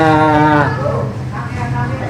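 A carabao (water buffalo) lets out a loud, close, drawn-out moo that fades into background noise.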